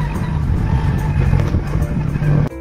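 A car cruising along the road with a steady engine drone and road rumble, loud and close from inside the cabin, ending with a brief bump near the end.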